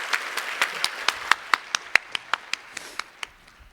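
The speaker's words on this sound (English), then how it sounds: "please, again, give applause to her very excellent performance on the stage" Sparse, distinct handclaps from a small audience after a live real-time graphics demo on a conference stage, roughly a dozen sharp claps in an uneven rhythm fading out, alone without talk.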